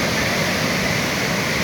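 Water gushes from a burst canal pipe carrying dam water to Agadir, a loud, dense, unbroken roar like a waterfall, close by and with no voices over it.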